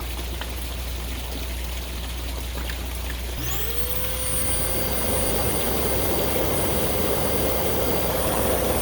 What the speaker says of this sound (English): When I turn the air blower on, I'll turn it on, and then that'll shoot air all down into there.